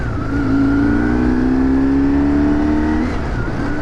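Loud, steady engine drone of a 2004 BMW R1150R motorcycle ridden through twisty roads, the pitch rising smoothly as it accelerates, then easing slightly. Wind rush sits underneath and no one speaks.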